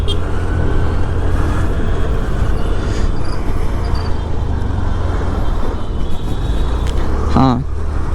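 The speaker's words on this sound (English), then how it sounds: "ఒక్క second bro, traffic కొంచెం clear అవ్వనండి" Continuous road traffic rumbles past a motorcyclist on a busy road, a loud, steady roar of engines with a brief honk near the end.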